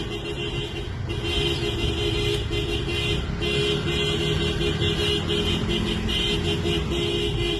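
Dense video-game traffic in GTA, a steady wash of many car engines and road noise with faint horn-like tones, continuous and fairly loud throughout with no speech.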